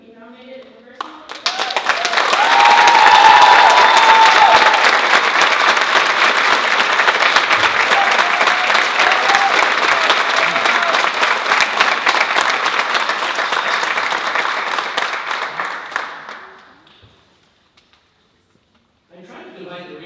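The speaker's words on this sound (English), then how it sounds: "Please join me in applauding Carlos Campino for being nominated" An audience claps for a youth award nominee at a county youth awards ceremony, sustained loud applause swelling quickly and holding steady for about fifteen seconds before fading out, followed by a brief silence.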